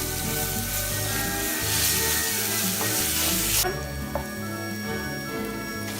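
Minced meat frying in a pan with garlic paste, sizzling steadily and loudly up close, with stirring scrapes and a brief shift in the sizzle partway through; no one speaks.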